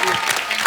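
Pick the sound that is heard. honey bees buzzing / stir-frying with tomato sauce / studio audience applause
studio audience applause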